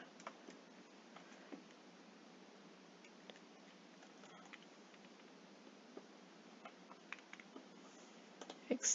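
Quiet, sparse clicking of computer keyboard keys as a vaccine lot number is typed, soft irregular taps over faint room hiss with a slightly louder cluster at the end.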